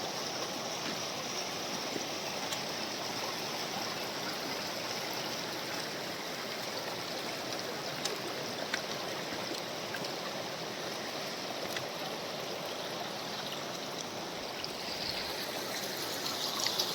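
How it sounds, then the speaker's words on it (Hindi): The Budhner river flows steadily at its confluence with the Narmada, a continuous broadband rush of moving water with no talk, unchanging throughout. "ये बुढ़नेर नदी है।"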